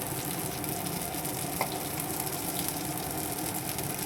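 Potatoes, green banana and drumstick pods fry lightly in a pan with a steady, close, continuous sizzle and crackle that runs unbroken throughout, with no voices over it.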